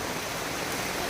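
Heavy rain pours down in a steady, dense hiss with no break, loud and close, with no voices over it.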